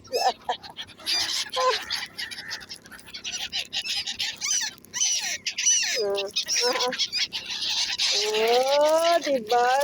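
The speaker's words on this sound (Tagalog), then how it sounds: "dito mga ibon, walang gutom dito kasi maraming nagpapakain sa kanila" Birds squawk and chatter in a busy outdoor flock in Dubai while people feed them, with dense calls throughout and a person talking over the bird noise.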